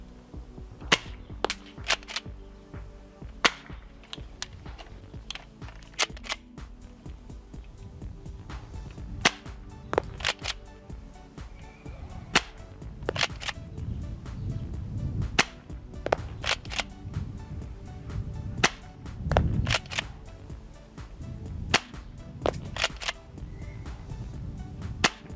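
A Secutor Arms Velites S III airsoft shotgun fires many sharp, snapping shots at irregular intervals, some of them in close pairs, with faint mechanical handling noises between the shots.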